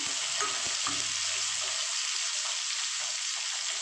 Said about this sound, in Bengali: শর্টকাটে এখানে আমি একটা টমেটো দিয়ে দিলাম